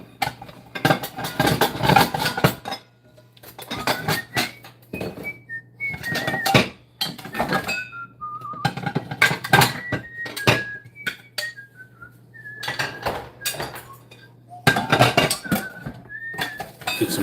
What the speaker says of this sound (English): Gotta scrub up some dishes.